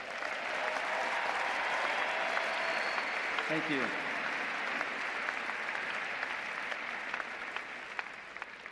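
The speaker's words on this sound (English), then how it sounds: "I would love it if you could salute and give applause to those that put on these ceremonies." Audience at a Florida State University spring commencement ceremony claps steadily and loudly throughout, a dense sustained applause with a brief spoken thanks over it.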